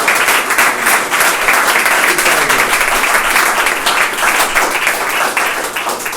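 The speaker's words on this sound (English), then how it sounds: "a round of applause for Don" Audience applause for Don at a presentation: dense, steady clapping from a crowd that fills the whole stretch at an even, loud level without letting up.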